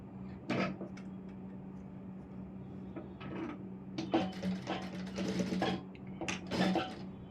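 A sewing machine stitches a small tack on an Aari work blouse with quick, faint ticking bursts of needle clatter in short runs over a low motor hum.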